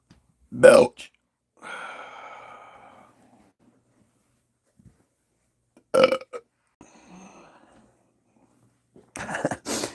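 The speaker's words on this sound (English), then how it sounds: "Belch." A person lets out several belches with pauses between them, a loud burst near the start, a longer drawn-out one after it, then more bursts toward the end, close to the listener and with no other sound around them.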